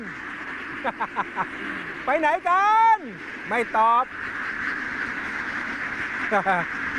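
Ducks on a duck farm in Singburi, Thailand, let out several short bursts of quacking, some in quick runs, close by and mixed in with a person talking.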